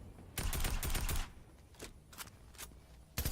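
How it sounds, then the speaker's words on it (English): Bursts of machine gun fire in a Fortnite match, several rapid volleys at moderate distance, separated by brief pauses, with no voices over them. "And they're just unleashing a hail of gunfire here."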